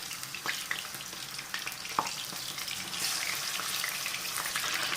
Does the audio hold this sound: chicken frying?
yes